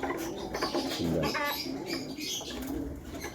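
A pet pigeon or dove in a loft gives soft, low cooing against a steady background hum and faint rustling, close but quiet, with no talk.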